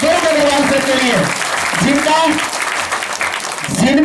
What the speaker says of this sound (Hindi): एक छोटा ताली अग्रवाल सर के लिए